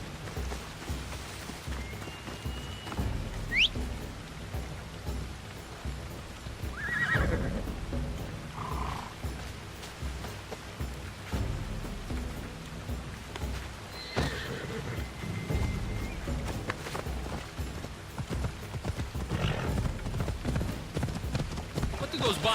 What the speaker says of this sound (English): This will be faster on horseback.